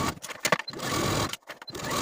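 A home sewing machine stitches the facing of a Simplicity 8178 dress to the center fronts and around the neckline, running in steady bursts with a couple of short pauses, close and fairly quiet.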